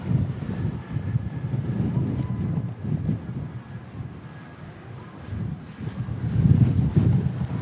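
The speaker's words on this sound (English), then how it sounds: "Whoa, that was a big gust." Strong gusty crosswind buffets an outdoor microphone at Manchester Airport, a broad low rumble that swells and eases in waves, loudest near the end, with faint distant aircraft noise beneath.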